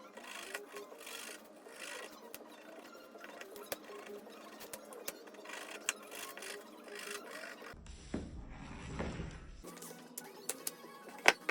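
Leather edges of a wallet piece roughed up with a leather rougher to prepare them for glue, giving a series of dry scraping and rasping strokes at close range, with a brief burst of heavier handling near the end and no talk.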